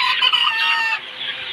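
Chickens in a poultry house give close, loud clucks and squawks in a brief, busy burst.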